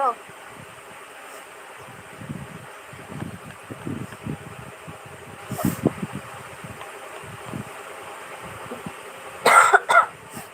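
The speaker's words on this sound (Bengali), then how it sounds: "প্রচন্ড কাশি হচ্ছে" A person coughs heavily in a few harsh bursts, clustered loudest near the end, over a low background rumble of wind-like noise.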